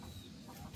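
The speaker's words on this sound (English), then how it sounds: "Okay, the rooster's coming out to check on things." A rooster steps out around a backyard chicken coop, giving a few faint, low clucks close by amid soft farmyard background noise.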